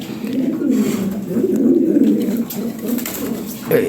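A fancy Lahore pigeon coos in low, throaty, continuous rolling calls, close by and fairly loud.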